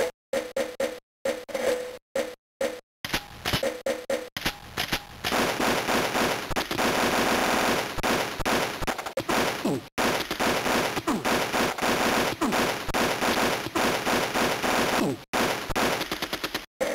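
Rapid auto rifle fire in the Army Men video game, with short bursts and gaps at first, then long sustained streams of loud, crackling shots, all at close range.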